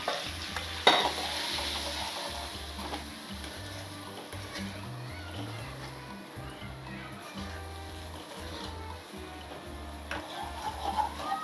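Eggs fried with a pinch of chili powder being stirred in a pan, a steady sizzle with scraping strokes under low background noise, with some voice-like sound present.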